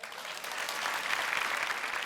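A studio audience at a Thai television variety show applauds for Mae Phon, a steady, moderately distant wash of clapping that swells slightly and holds throughout with no talk over it.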